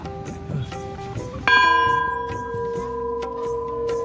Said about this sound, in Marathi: ही घंटी बघा किती मोठी आहे आपण वाजूया